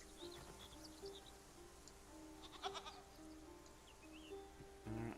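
Goats bleat in short bursts in the video game Titan Quest II, over a steady soundtrack hum, with a louder cluster of bleats near the end.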